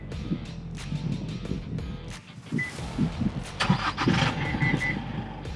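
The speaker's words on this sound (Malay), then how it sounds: "Isuzu D-Max adalah truck pickup pertama yang boleh start enjin guna remote." An Isuzu D-Max X-Terrain pickup truck's engine is started by remote, with a crank and catch into an idle partway through, while beeps and background noise sit around it nearby.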